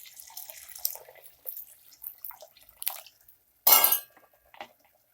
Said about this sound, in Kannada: ಈಗ ನಾನು ಮಿಕ್ಸಿ ಜಾರ್ಗೆ ಸ್ವಲ್ಪ ನೀರು ಹಾಕ್ಕೊಂಡು ಹಾಕ್ಕೊತಾ ಇದ್ದೀನಿ